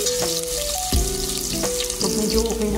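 Onion and ginger sauté in a pan, giving a close, continuous sizzle with a few ringing tonal scrapes and clinks of utensils against the pan.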